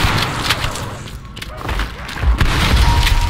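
Loud shotgun blasts boom out in Call of Duty Black Ops Cold War Zombies, heavy thuds landing amid chaotic game noise and clatter, with a big blast near the end.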